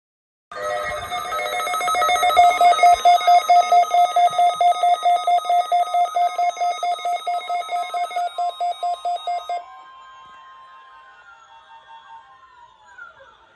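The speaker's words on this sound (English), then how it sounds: "The preceding signal was a test of the public warning and alarm" A NOAA Weather Radio emergency alert tone sounds loud and alone: a steady high warbling warning signal with rapid pulsing that runs for about nine seconds, then a fainter, trailing tail.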